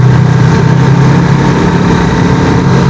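Up close, a KTM RC 390 sport bike sits idling in a constant, loud, low rumble that holds steady without any throttle blips.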